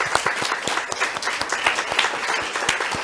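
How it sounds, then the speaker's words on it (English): An audience claps for the Bell Shakespeare theatre company at an arts talk, a steady ripple of many hands at moderate loudness without a break. "a big round of applause to Bell Shakespeare"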